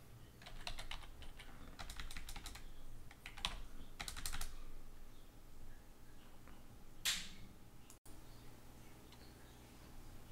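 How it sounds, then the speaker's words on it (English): Keys clatter on a computer keyboard while text is typed in quick bursts of close taps, separated by pauses, with one sharper click near the end. "I can use the keyboard to input text"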